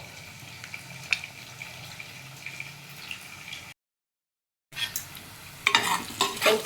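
Onions sauté in a clay pot for a sankara fish curry, giving a soft continuous sizzle with occasional stirring scrapes close up, a brief silent gap, then louder stirring clatter.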